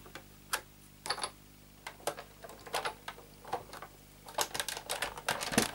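Die-cutting machine cranked by hand with a cutting pad, cardstock sheet, die and second cutting mat inside, giving a run of close, dry clicking ticks that speed up and cluster toward the end, heard alone.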